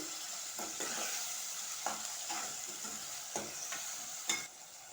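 Salted onions frying in a pan under a constant gentle sizzle, with intermittent stirring scrapes and a light clack of the spoon near the end, close and quiet.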